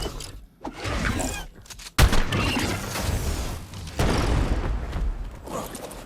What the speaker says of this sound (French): Heureusement qu'elle fait pas de dégâts, l'explosion.